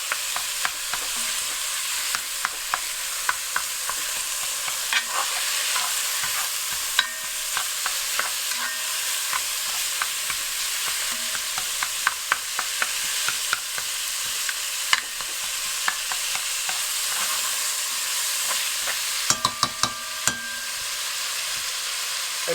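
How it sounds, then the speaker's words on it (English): Ground beef is broken up and stirred with onions in a hot pan for chili, giving a continuous close sizzle punctuated by frequent scraping and clacking of a spatula against the pan. "now I'm going to break up my ground beef and mix it around with my onions"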